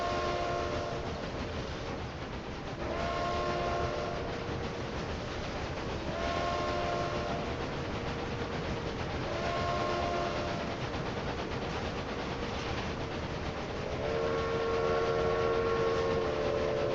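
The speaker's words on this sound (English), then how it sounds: "I saw a train moving." A train moving through the railway tycoon video game Railway Empire 2, with a continuous rolling rumble and repeated whistle or horn tones sounding over about seventeen seconds, steady and moderately loud, with no talking.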